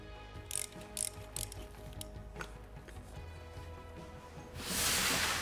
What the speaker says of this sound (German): Als nächstes drehen wir jetzt den Getriebeölfilter raus